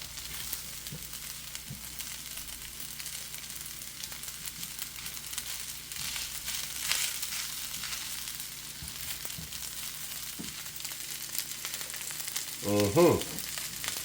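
Jerk salmon fried rice with sesame oil and scrambled eggs frying in a pan, a soft, even sizzle held low and steady throughout, with a brief louder stir or clatter near the end.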